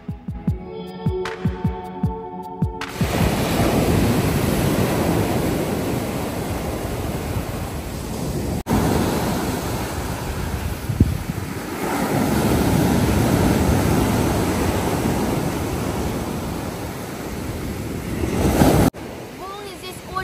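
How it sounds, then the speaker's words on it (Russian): Large sea waves pound Myrtos Beach on Kefalonia, a loud, steady roar of surf and wind that runs almost without a break, after a few seconds of music at the start. "Волны здесь очень большие, и в воде все сидят буквально на берегу"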